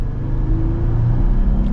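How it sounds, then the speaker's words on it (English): An AEV Wrangler Classic's engine revs hard as the vehicle accelerates slowly, a loud, close, strained rumble with a rising whine and no talking. "Gotta let the engine scream a little bit, but it gets the job done"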